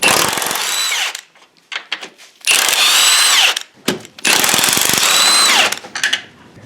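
Power tool, likely an impact gun, loosening the 11/16 strut mount bolts on top of a jacked-up Ford Thunderbird's front suspension: three loud, close bursts of rattling whir, each about a second long, with short mechanical clatter between them.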